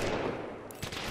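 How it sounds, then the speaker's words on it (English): Automatic gunfire in the video game Apex Legends, a brief dense burst of rapid shots lasting about a second, loud and close. "Taking fire!"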